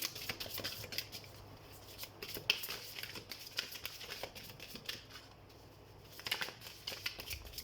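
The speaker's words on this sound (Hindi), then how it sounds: "तो सबसे पहले हम कार्ड शफल कर लेते हैं" Tarot cards are shuffled by hand in a soft run of quiet riffling and flicking, steady and close with brief crisp bursts near the end and no talking.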